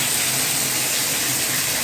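A bathtub spout runs at full flow from a newly installed Moen Posi-Temp valve, a loud, steady hiss and gush of water with no voices.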